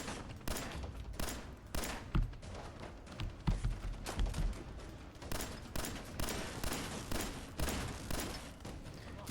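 A turret in the video game Fallout 4 fires in rapid, repeated bursts of gunshots, loud and continuous throughout, like sustained automatic fire in a fight.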